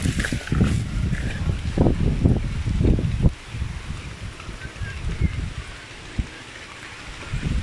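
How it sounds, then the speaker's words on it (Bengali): Long-awaited rain comes down on a farm in a steady wash of noise, with heavier gusty rushes early on, fairly close and without talk. "ফাইনালি অনেক অপেক্ষার বৃষ্টি"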